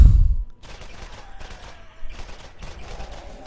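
Rapid-fire bursts from a machine pistol in the Borderlands shooter game, a thin electronic crackle of repeated shots in several bursts over a steady backdrop, with a heavier thump at the very start.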